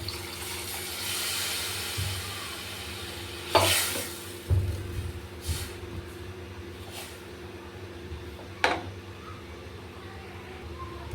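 Water is poured into sizzling cluster bean (guar) masala made with a green ground paste. A brief hissing rush comes first, then scattered clanks and scrapes of stirring in the pan over a low, steady kitchen hum.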